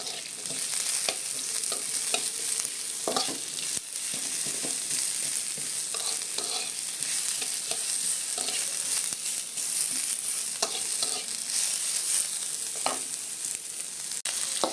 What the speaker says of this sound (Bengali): পেঁয়াজ কুচি, দেন মরিচ, এগুলো আগে একটু হলো ভাজা ভাজা করে নেব।